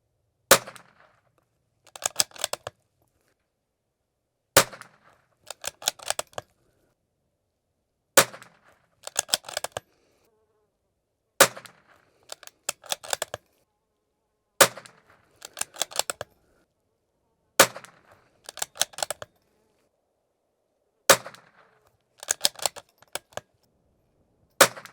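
Rifle fitted with a thumbhole stock fires at a target, each sharp report standing alone followed by a short burst of bolt or handling clatter, repeated about eight times at steady intervals with no talk.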